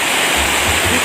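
Kilangin Falls in Liliw, Laguna roars as a loud, close, unbroken rush of falling water that fills the whole moment.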